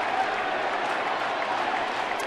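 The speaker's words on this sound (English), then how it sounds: "Let's go Yankees cheer tries to" Yankees fans at a Yankees–Mets ballgame cheering and applauding as a steady, dense roar that fills the stadium, with no distinct chant rhythm standing out.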